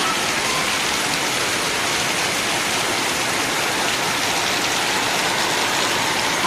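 Heavy rain falls during a storm, a loud, unbroken roar of water close at hand that holds steady throughout, with no voices heard.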